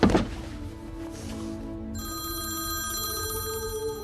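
A telephone rings inside a scene from a Marvel space film, a bright electronic ringing that starts partway through and holds steady over a low, continuous background hum, with no talking.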